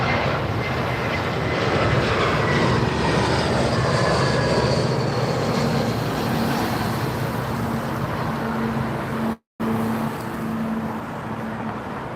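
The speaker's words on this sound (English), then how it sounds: "Got something flying overhead. Propeller aircraft. Propeller aircraft going over that I can't see." A propeller aircraft passes overhead near London Heathrow Airport, producing a loud, steady broadband engine roar that lasts throughout with a very brief dropout, and no voices are heard.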